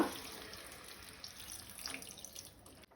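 Water trickles and pours faintly into a peas and potato curry in a home kitchen, a soft continuous splash with a small clatter near the end.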